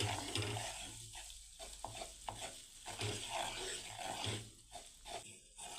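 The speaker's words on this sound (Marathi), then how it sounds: "बेसन पीठ छान असं तुपामध्ये भाजून घ्यायचं आहे" Gram flour roasts in ghee for a moong dal halwa while a spoon stirs it, giving a soft continuous sizzle with scraping strokes against the pan, heard up close.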